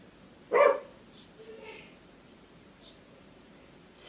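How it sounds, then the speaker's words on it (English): A dog barks once in a garden, a short sharp bark near the start, then faint rustling and a few quiet yips before another brief bark at the end, with low background noise. "Excuse the dog today."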